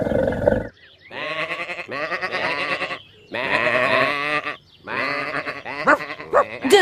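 Sheep and lambs bleating outdoors, several loud close calls in a row separated by short pauses, with layered overlapping voices of the flock.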